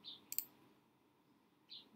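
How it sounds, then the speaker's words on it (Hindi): A single computer mouse click while working on a website, faint and brief, set against a quiet room with a couple of high chirping tones nearby. "मैंने क्लिक किया है।"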